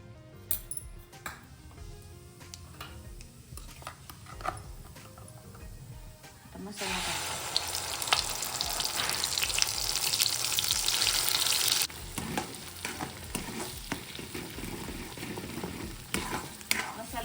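Cumin seeds dropped into hot oil left over from frying paneer, a bright crackling sizzle that swells suddenly midway and then eases, with scattered clinks and stirring around it.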